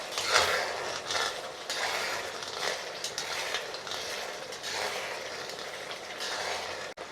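Rui fish curry stirred in a pot with a utensil, giving continuous close scraping and clinking against the metal, with brief gaps between strokes and no talking.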